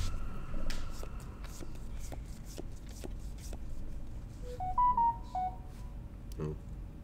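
A phone alert from the state of Michigan chimes through a short series of rising electronic tones near a card game table, preceded by soft taps and shuffling sounds.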